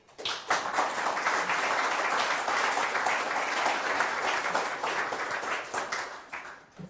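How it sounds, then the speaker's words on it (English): Steady applause from an audience, many hands clapping at once, rising quickly and holding for several seconds before tapering off. "I'd like to give an extra round of applause for the work"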